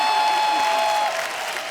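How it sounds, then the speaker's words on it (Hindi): Loud, dense studio audience applause on a comedy talk show fills the room continuously, easing slightly toward the end. "जोरदार तालियां रिद्धिमा के लिए"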